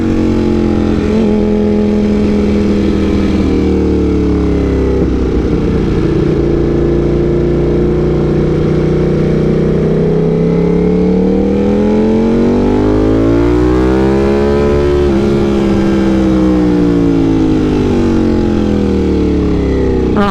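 A car engine drones loudly through its exhaust, revving up and down repeatedly with rising and falling pitch, close and continuous throughout.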